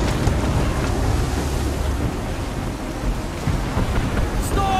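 Sea storm at sail in Assassin's Creed III, with continuous heavy rain and rolling thunder rumbling low and loud across the whole stretch, a broad steady roar without pause.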